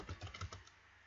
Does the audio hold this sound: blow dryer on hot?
no